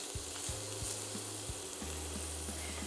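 Ingredients soften over lowered heat in a pan, giving a steady, moderately quiet sizzle throughout with a few low thumps and hums in the background.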